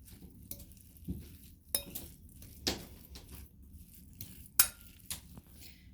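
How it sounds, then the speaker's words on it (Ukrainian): Utensil clinks and scrapes against a bowl in irregular bursts, with soft squishy mixing sounds between the taps as a samsa filling with dill is stirred; close and fairly quiet. "І добре все вимішуємо."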